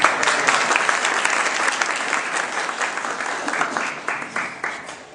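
An audience at a scouting gathering in Mauritania applauds a guest speaker, a steady dense wash of many hands clapping that holds throughout, with a few sharper individual claps standing out toward the end.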